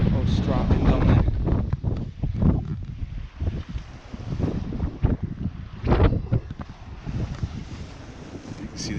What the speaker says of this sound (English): And there's that wind.